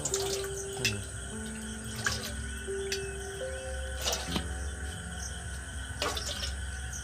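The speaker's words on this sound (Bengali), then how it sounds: "এদিকে আমি খানিকটা জল এর মধ্যে নিয়ে নিচ্ছি দেখুন" Water trickles and drips into a bowl while sweet yogurt is being prepared, a light splashing with small clinks and a faint steady background hum, no speech.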